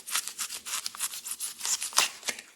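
Scissors cutting a triangle of craft material for a faux pumpkin pie slice, a close series of quick crisp snips in a steady rhythm, with no talking.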